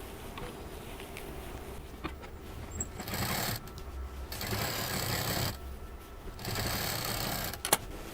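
Sewing machine stitching the seam of a reversible fabric shopping bag, running in several fairly steady bursts with short pauses between, close and moderately loud.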